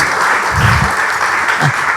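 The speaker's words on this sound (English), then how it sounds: "round of applause" A loud round of applause from an audience at an architecture design presentation, steady dense clapping filling the space with a few low murmurs beneath.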